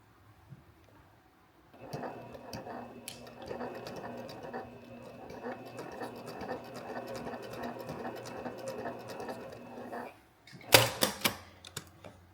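Embroidery machine stitching a Harry Potter banner, a fast steady rattling patter that runs for about eight seconds and then stops, followed by a few louder clunks and handling noises.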